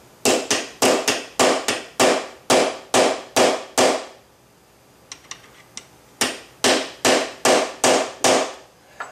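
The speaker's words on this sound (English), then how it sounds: "Again, using the brass punch so you don't mar up the sights." Brass punch tapping a Williams peep sight on a Ruger 10-22 rifle: quick runs of sharp metallic taps, about ten in a burst, a pause with a few faint clicks, then another steady burst, close and loud.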